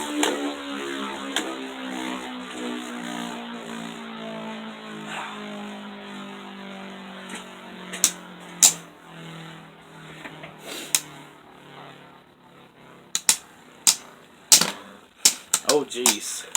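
Beyblade spinning tops, Vise Leopard and Revive Phoenix, whir steadily after launch, then clash in sharp clicking hits that grow denser toward the end, with speech in the background.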